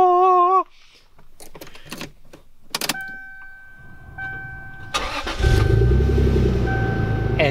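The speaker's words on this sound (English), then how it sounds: "it's time for us to start the Supra" A Toyota Supra started with a newly cut titanium key: a few clicks and chimes, then the starter cranks and the engine fires into a loud, steady idle close by.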